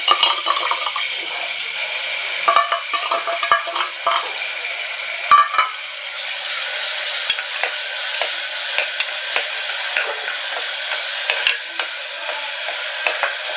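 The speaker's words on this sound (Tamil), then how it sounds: "எண்ணெய் காஞ்சிருச்சு நான் வந்து இஞ்சி பூண்டு விழுத சேர்த்துக்கிறேன்" Ginger garlic paste spits and sizzles in hot oil, a bright continuous frying hiss close up, broken by light stirring clicks and taps.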